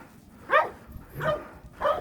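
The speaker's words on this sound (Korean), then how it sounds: "가끔씩 이렇게 동네 개들도" Village dogs barking outdoors in a rural area on a freezing, windy winter day: three separate barks spaced about half a second apart, moderately near and clear against a low wind rumble.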